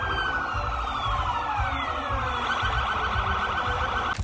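A police car siren wails continuously and loudly, its rising and falling tone sweeping over a busy, noisy background, as police break up an illegal party in Năvodari.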